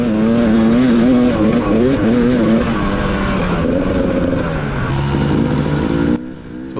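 Dirt bikes on a sandy trail, engines droning loud and steady with pitch rising and falling as they ride, then a sudden drop near the end.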